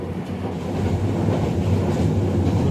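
Passenger train on the Dhaka to Cox's Bazar line, a steady low rumble with soft rhythmic wheel clatter that builds slightly, no voices.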